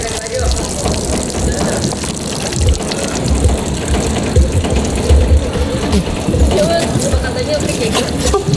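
Water poured over a body during a corpse-washing practice session, a continuous splashing gush like a running tap, loud and close with voices talking over it.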